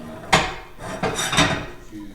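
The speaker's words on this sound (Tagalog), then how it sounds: "Haluin lang siya natin ng haluin hanggang malusaw yung powder" Spoon scraping and knocking around a pot while stirring Jell-O powder until it dissolves, three or four close scraping strokes with soft clinks.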